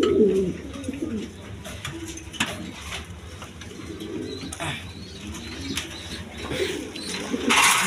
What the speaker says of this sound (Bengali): দেখেন এইরকম বিভিন্ন বিটের কবুতর আছে, ডিম বাচ্চা করানো কবুতর আছে।